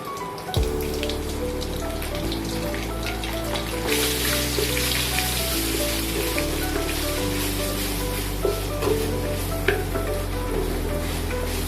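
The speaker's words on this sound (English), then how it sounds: "Stir fry until it gets dry a bit." Stir-frying in a pan with onion and tamarind: a dense, continuous sizzle and crackle with scraping from stirring, close and fairly loud throughout, over steady background music.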